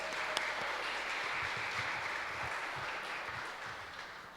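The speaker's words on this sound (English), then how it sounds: "Let's give him a round of applause." Audience applause at a youth oratorical contest, a soft steady patter of many hands that stays even and fairly distant for the whole stretch, with no voices over it.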